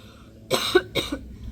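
Two sharp coughs close by, one right after the other, with quiet before and after.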